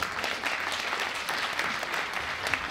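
Audience at a French-language talk on Trotskyists in World War II claps, a short burst of steady, moderately loud applause from a roomful of listeners.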